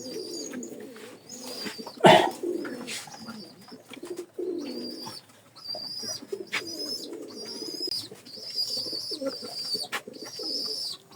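Pigeons coo repeatedly at a pigeon farm, soft low warbling calls alongside higher chirps, with a sharp clatter like wing flaps near two seconds.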